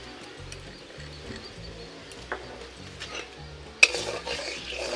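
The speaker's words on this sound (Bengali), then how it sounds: "আমি চিনিটা দিয়ে দিচ্ছি" Sugar being stirred into hot water for syrup, with a soft scraping stir and light clinks of a spoon against a pot, low rhythmic pulses underneath and a brief louder clatter near the end.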